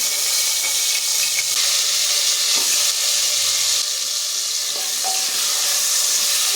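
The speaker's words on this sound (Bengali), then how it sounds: "প্রথমে আলুগুলো ভাজবো, তেল দিয়ে দিলাম, আলুগুলো দিয়ে দেবো।" Potatoes frying in hot oil in a pressure cooker, a loud, steady close sizzle with occasional stirring clinks, no voices over it.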